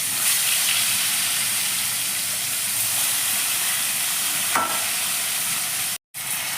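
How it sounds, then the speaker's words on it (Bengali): Koi fish frying in a pan, a loud, continuous hiss of hot oil that cuts out briefly near the end, with no talk. "এবার বাকি মাছগুলোকেও আমি এক এক করে ভেজে নিচ্ছি।"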